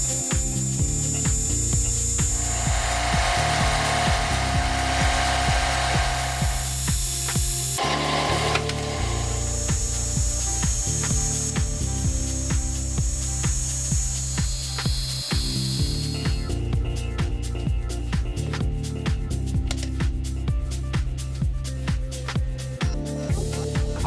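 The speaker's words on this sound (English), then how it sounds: "The brass feet were then turned on the lathe." Brass feet turned on a metal lathe while making a rectangular bluing tray: a steady, close machine drone with rhythmic scraping and ticking cutting noise that runs throughout, with no talking.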